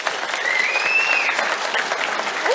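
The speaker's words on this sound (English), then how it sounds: "So I would like final round of applause for Roxanne" Conference audience applauding in a hall, a full sustained burst of many hands clapping at even loudness throughout, with a faint whistle-like tone drifting through.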